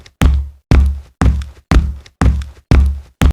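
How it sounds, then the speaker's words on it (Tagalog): Footsteps on a church floor as a sound effect: seven heavy, evenly spaced thuds about half a second apart, close and distinct against silence, with no voices. "may narinig silang mahihinang yabag sa sahig"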